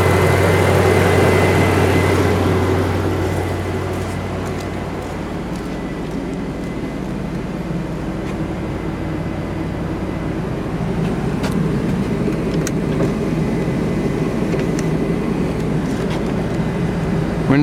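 A steady car engine idles close by, a low continuous rumble with a brief louder swell at the start and no speech.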